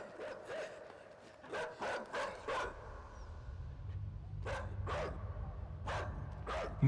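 A dog in the video game INSIDE barks repeatedly in short clusters of sharp, fairly close barks, with pauses between groups over a low, steady rumble.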